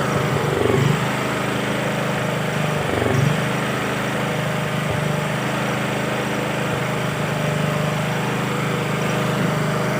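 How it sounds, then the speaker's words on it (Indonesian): A Robin RHV6100 generator engine runs steadily after its choke is adjusted, a loud continuous mechanical drone with an even pitch and no talk over it. "Setelah mesin genset sudah normal suara mesinnya"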